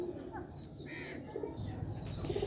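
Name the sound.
pigeon cooing and flapping wings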